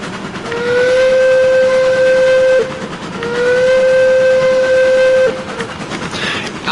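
A steam locomotive whistle in the Railroads Online train game gives two long, loud, steady blasts with a brief pause between them, heard alone over low engine rumble.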